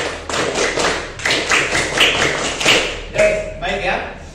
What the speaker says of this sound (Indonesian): kita akan tepuk pramuka dulu biar lebih semangat